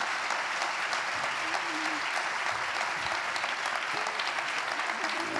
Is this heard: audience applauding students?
yes